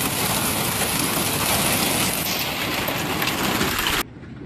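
Fierce hailstorm in central Kansas, a dense continuous roar of hail pounding surfaces close by, loud and unbroken until it cuts off abruptly near the end.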